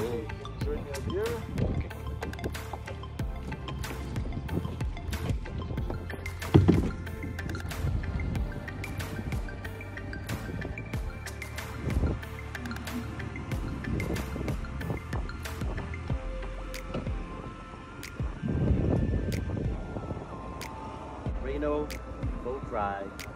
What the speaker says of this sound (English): boat ride, mangroves.